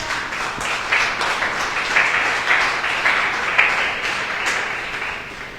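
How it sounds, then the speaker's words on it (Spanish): A church congregation applauds during a Spanish-language sermon, a dense, steady wash of clapping that holds at an even level across the room for several seconds with no talk over it. "Denle un aplauso al Señor, hermano."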